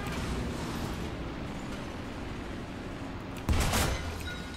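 A War Thunder tank cannon fires once, a sharp loud blast near the end standing out over a steady rumbling battlefield ambience.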